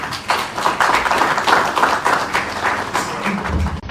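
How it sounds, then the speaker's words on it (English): An audience breaks into dense, sustained applause for the Lord Bishop, many hands clapping together at close range before it cuts off abruptly. "let us clap for our Lord Bishop"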